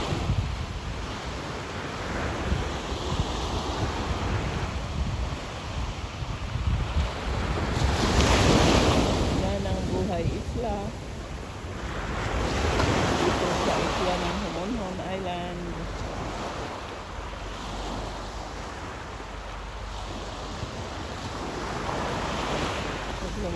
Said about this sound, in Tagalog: malaki kasi ang alon nadala yung mga lumot dito sa ano, white sand